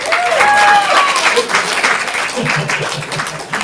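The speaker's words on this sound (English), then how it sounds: "So give them a round of applause." Loud audience applause at a stand-up comedy showcase filling the space, a dense wash of clapping with a few brief whistles near the start.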